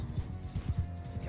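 Cavalry horses in the video game Mount and Blade Bannerlord make a quick run of clip-clopping hoofbeats, soft and low in a rhythmic pattern over a brief moment.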